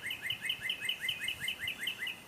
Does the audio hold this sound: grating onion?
no